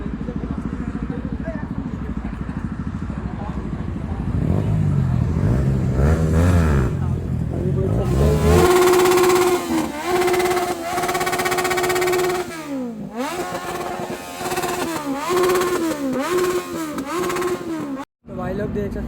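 Modified Apache R15 and Ducati superbikes at a rider gathering rev their engines loudly and repeatedly, with rising and falling pitch sweeps up close while people talk throughout.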